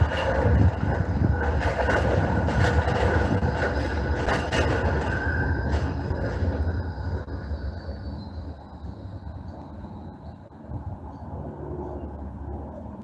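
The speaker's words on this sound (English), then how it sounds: "Oh, there's another tram." A tram rumbles past on rails, loud and steady at first with rattling and a faint high whine, then gradually fading as it moves away.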